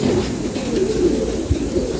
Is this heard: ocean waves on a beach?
no